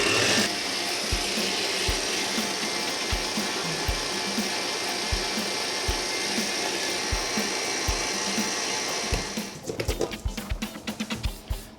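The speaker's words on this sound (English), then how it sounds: "So we'll start to make the meringue, whipping the whites on medium speed." Electric mixer whipping egg whites on medium speed for meringue, a steady loud motor drone with regular soft knocks of the beaters against the bowl, turning choppier toward the end.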